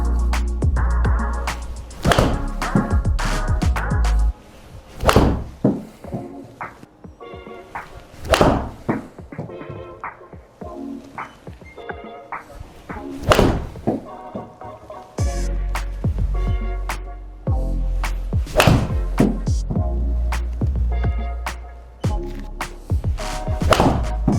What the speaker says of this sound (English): so 6 shots there with the 7-iron